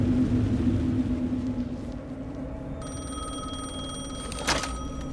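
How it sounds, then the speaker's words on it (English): In the video game Alan Wake 2, a telephone starts ringing partway through over a low ambient rumble, its bright trilling ring swelling briefly near the end, with no speech. "The phone again."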